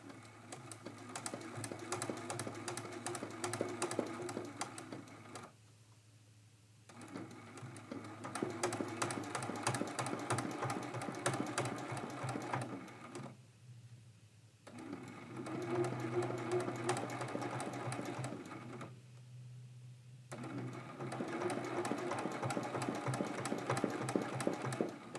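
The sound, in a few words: sewing machine stitching quilt block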